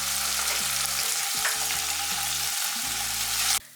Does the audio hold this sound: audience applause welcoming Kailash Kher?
no